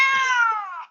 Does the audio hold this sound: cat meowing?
yes